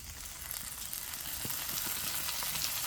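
Onion, chilli and ginger-garlic paste fry in hot oil for potato chop filling, a soft, even sizzle growing slightly louder, with a few light taps and scrapes of stirring.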